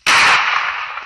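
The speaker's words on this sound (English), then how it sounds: "Throwing grenade." A grenade blast in the mobile shooter Forward Assault: one sharp, loud burst that hits suddenly, then a bright, hissing rumble trails off over about a second, alone with no talk over it.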